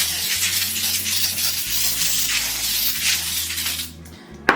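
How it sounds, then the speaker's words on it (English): A continuous hiss of cooking spray onto a parchment-lined baking pan runs for about four seconds, close and steady, then cuts off with a small clack at the end. "And then give that a good spray."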